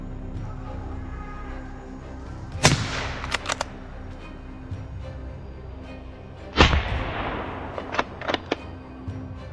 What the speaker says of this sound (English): A clean shot rang out